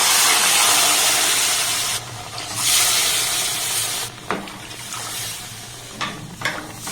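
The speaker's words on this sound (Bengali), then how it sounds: "এবার সেই কাপের মাপ করে আমি তিন কাপ লিকুইড দুধ দিয়ে দেবো" Liquid milk pours into semolina in a cooking pan, a loud, steady hissing, bubbling wash that briefly drops away twice before resuming with scattered stirring knocks.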